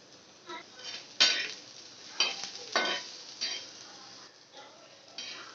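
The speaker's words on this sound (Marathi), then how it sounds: "खोबरं भाजून झालं की आपण आता कांदा भाजून घेणार आहोत" Onion, ginger and garlic dry-roasting in a pan for a spicy shev bhaji masala, heard as soft crackling with a few louder scrapes and stirring clatters of utensil against pan, fairly quiet and with no talking.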